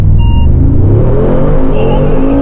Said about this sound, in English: Full acceleration, and at my line, you will do a full braking.